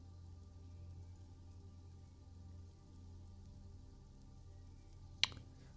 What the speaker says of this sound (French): Et à l'extérieur, une pluie tombante se fait entendre.